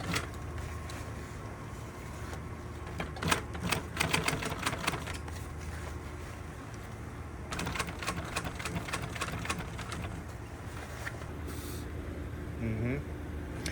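Double-needle industrial sewing machine stitching leather in a workshop, heard as intermittent rapid mechanical rattling bursts with quieter stretches between, under ongoing conversation.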